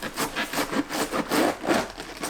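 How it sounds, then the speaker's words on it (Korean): Outer leaves of a napa cabbage are pulled and trimmed by hand, producing a run of close, rhythmic rustling and crisp tearing strokes, about eight in quick succession. "배추 겉 지저분한 잎을 손질합니다."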